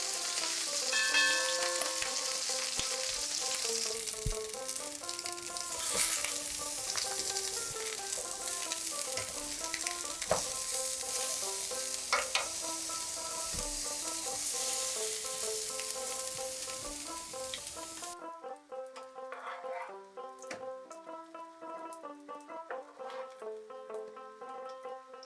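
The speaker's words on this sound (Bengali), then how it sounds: "কমা বাড়া করে গ্যাসটাকে আমি বেগুনগুলো এপিট ওপিট ভাজবো।" Eggplant slices fry in hot oil with a steady, loud sizzle and occasional spatula clinks as they are turned side to side; the sizzle drops away abruptly near the end, leaving quieter scraping and faint pan noises.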